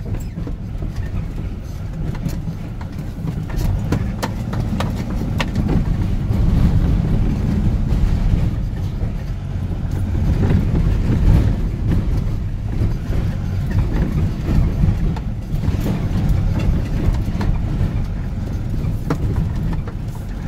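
A rented trencher cuts a roadside trench for fiber optic cable, its steady low engine and digging rumble continuous and fairly loud throughout, with wind buffeting the microphone.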